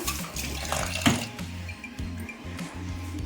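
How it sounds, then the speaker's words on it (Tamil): Water is poured over rice in a vessel to wash it before soaking for kozhukattai. Close, rhythmic sloshing and swishing comes with a few soft low thumps and one sharper splash early on. "லைட்டாக ஒரு ரெண்டு ஒரு ரெண்டு வாஷ் பண்ணிவிட்டு தண்ணி ஒரு நல்ல தண்ணி ஊற்றி கழுவி விட்டு"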